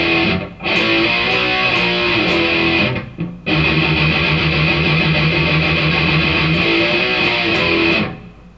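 Loud distorted electric guitar chugs through a driving power-chord riff, sustained for several seconds with two brief gaps between phrases, playing alone without talk.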